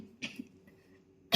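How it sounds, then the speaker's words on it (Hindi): Two short, husky coughs, the second harsher, sound close to a phone microphone in a quiet room, with a faint soft sound between them. "खांसी आ रही है"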